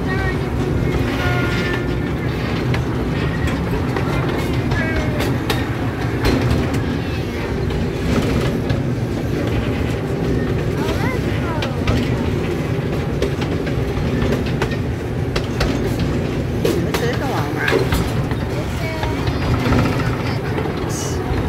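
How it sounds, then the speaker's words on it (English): A zoo train rumbles steadily along the rails with a continuous clatter and rattle, heard from on board at the Montgomery Zoo, loud and unbroken throughout. "a video of us riding this train"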